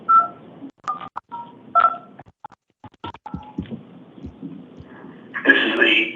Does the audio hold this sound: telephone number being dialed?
yes